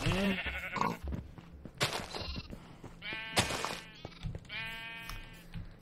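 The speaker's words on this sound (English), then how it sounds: "Alright, so we got our sheep" Sheep bleat repeatedly in Minecraft, the game's wavering blocky farm-animal calls arriving in several short bursts of varying loudness, with faint background game sounds and no talking.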